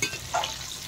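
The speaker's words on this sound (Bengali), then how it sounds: "ভালো করে লাল লাল করে ডিমগুলো একটু ভেজে নিতে হবে।" Eggs fry in hot oil in a pan for an egg curry, giving a soft, steady sizzle with a brief stirring scrape midway.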